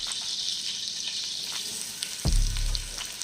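Onions sizzle in melted butter in a soup pot, a close steady hiss with a brief louder burst and low thump near the end as more goes in.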